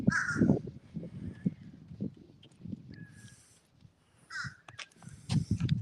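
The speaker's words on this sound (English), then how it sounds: "Wow, those are crows." Several crows caw in short harsh bursts, repeated at intervals at moderate distance, over a background of low rumbling traffic and footsteps-like noise.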